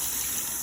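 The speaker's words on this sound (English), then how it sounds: "Just rinsing off some of the seasoning that got on the outside of this." Running tap water rinses seasoning off the outside of a sealed sous vide bag of chicken breast, a steady close gush with no talk.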